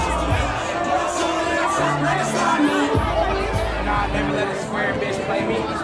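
Dense crowd chatter fills a packed Los Angeles house party, a steady roar of overlapping voices with occasional shouts and whoops, music-like tones faintly underneath, loud and continuous throughout.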